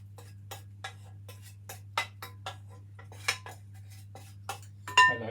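A utensil stirs apricots, butter, sugar, pecans and oats for biscuits in a bowl, producing a series of irregular light clinks and scrapes against the bowl over a steady low background hum.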